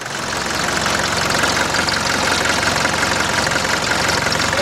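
A 1981 Mercedes-Benz 240D diesel engine idles roughly up close, loud and continuous, with a clattering, knocking rhythm and vibration throughout.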